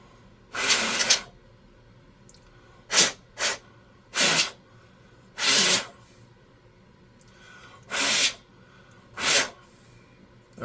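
Short bursts of aerosol Dullcote spray hiss onto model train parts, seven separate sprays of varying length, some about a second long and others brief, close and clear with quiet pauses between.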